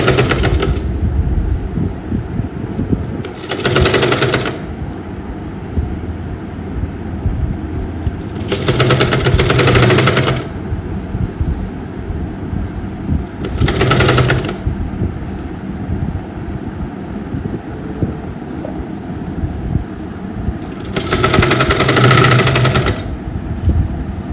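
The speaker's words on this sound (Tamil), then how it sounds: "இந்த கழுத்தை என்ன சுற்றி ஒரு படிமான தையல் போட்டுருவோம்" A sewing machine stitching around the back neckline of a lining top, running in four separate loud buzzing bursts of a second or two each, with quieter handling sounds in the pauses between, close and without talk.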